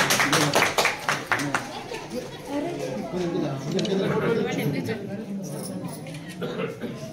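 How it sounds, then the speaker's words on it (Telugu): A group of people claps at a housewarming for a new government-scheme house in a Telangana village, with bursts of applause at the start and overlapping chatter and talking throughout. "క్లాప్స్."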